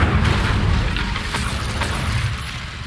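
Incendio fire spell blasts in Hogwarts Legacy, a steady roaring, rumbling burst of flame with a few sharp crackling pops, loud and close throughout.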